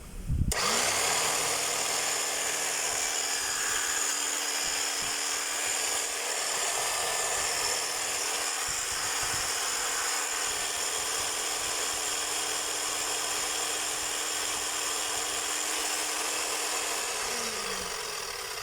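A plugged-in power tool switches on and runs steadily as a test for about seventeen seconds, a constant loud whine that stops at the end, with no talking.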